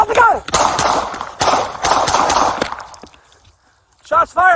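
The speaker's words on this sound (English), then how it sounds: "Shots fired! Shots fired! Shots fired!" Gunshots ring out during a police foot chase on a city street, sharp loud broadband bangs spaced through the clip among shouting officers and radio chatter, with a brief quieter gap before voices return.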